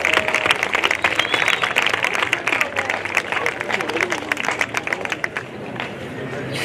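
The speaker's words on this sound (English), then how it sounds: "please give a round of applause for Valeria Guadamus" Audience applause fills a high school semester awards ceremony as a student is honored, steady dense clapping throughout with crowd murmur and some voices mixed in.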